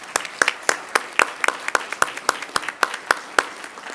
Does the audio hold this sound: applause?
yes